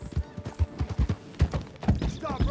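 Horse hooves clip-clop at a steady, rhythmic walking pace in the video game Red Dead Redemption 2, with distinct, moderately loud footfalls and faint background voices.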